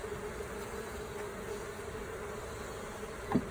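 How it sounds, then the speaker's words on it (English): Honeybees buzz around an open hive during an inspection, a steady, close, low hum of many wings that carries evenly throughout, with one brief louder knock near the end. "Look how close I am, and you can just like hear them."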